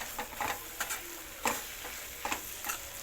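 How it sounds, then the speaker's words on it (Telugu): Gram flour curry simmering in a pan on low heat, with soft sizzling and several scattered scrapes and stirs of a spoon, moderately close and fairly quiet, with no voices. "ఇది సిమ్లో పెట్టి కొంచెంసేపు వేగితే"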